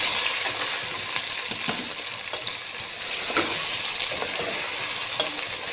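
Chicken fries in a pan with ginger garlic paste, a constant loud sizzle with occasional light scrapes and taps from stirring.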